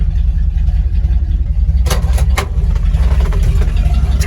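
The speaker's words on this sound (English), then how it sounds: "If you notice, the exhaust is a little bit louder." A 1985 Dodge D150 pickup idles with a cut exhaust, giving a loud, steady low rumble that stays constant throughout, with a brief revving flutter midway.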